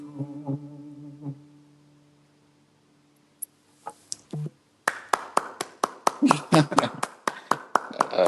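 After some soft tones and a quiet pause, an audience breaks into applause, with dense, lively hand clapping building and continuing to the end.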